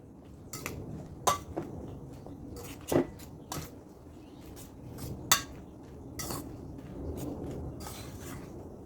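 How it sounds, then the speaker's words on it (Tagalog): Egg being mixed into bread in a bowl for a frying-pan pizza, with scattered clinks and scrapes of a utensil against the bowl, irregular and close, with no talking. "ihalo na natin yung itlog sa tinapay"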